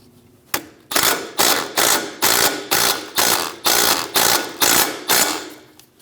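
Ratchet wrench tightening the brake line bracket bolt on the front upper control arm of a 2001–2006 Chevrolet Silverado, a sharp click followed by about ten loud, evenly spaced ratcheting bursts, close up with no talk.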